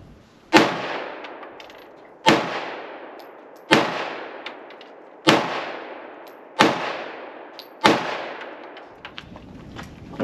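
Six sharp pistol shots from a Canik Mete MC9 firing 50 grain Liberty +P defensive ammunition, evenly spaced at about one shot every one to two seconds, each loud crack trailing off in echo, with no talking.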